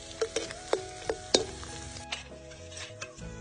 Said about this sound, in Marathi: 1 वाटी डिंक तळून घेऊ